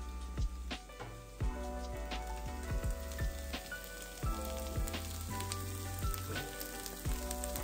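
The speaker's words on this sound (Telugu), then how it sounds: "సో అట్లా ఈజీగా ఇంట్లో అయితే ఎగ్ ఫ్రై చేసేసుకున్నాము." An egg frying on high flame in a pan at home, a steady crackling sizzle with scattered sharp pops and spatters, close and fairly quiet, no talking.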